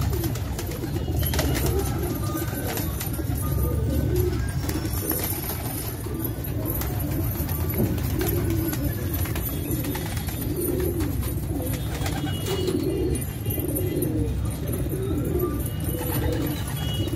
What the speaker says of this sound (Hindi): हैदराबादी कबूतर है, फोर सेल है